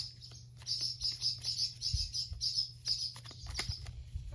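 Small birds chirp in quick repeated tweets that form a steady rhythmic run of calls, moderately close, over a faint low hum from the surroundings.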